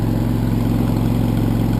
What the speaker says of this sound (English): That's what the tractor revved up